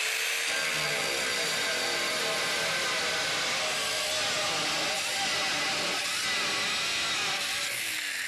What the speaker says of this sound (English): You see the way I cut through that in just seconds? Went right through the diamond plate just like that.